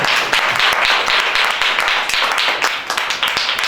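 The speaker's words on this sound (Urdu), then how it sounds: "ان کے لیے تالیاں بجائیں گے" Audience applause during an Urdu-language church sermon, a dense, steady wash of many hands clapping at close range that keeps going for several seconds with little variation.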